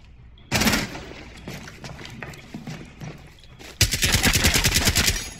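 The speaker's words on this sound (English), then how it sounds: "I can't shoot from range with this pistol" Pistol shots in Rainbow Six Siege, a burst near the start then a rapid string of loud, closely spaced shots in the second half, with quieter game footsteps and movement between.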